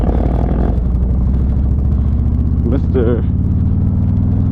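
A Harley motorcycle rolls along in first gear, its low engine rumble steady and close throughout while someone talks over it, with a brief higher whine partway through.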